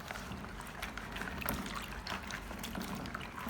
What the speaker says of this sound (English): Next, replace the water and rinse away the dirt, flour, and baking soda